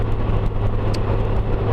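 Steady engine drone and road rumble from a Honda Goldwing motorcycle while riding, a continuous low, loud hum with no one talking.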